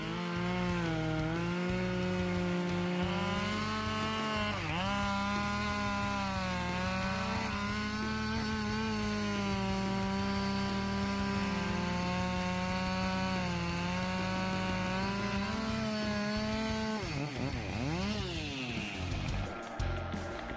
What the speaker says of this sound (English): This chainsaw has impressive cutting power, handling dry wood with ease and exceptional speed.